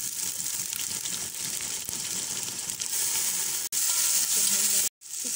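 Garlic ginger paste frying with onions in a pan for mutton pulao gives a steady, close, loud sizzle with stirring scrapes, and a brief gap near the end.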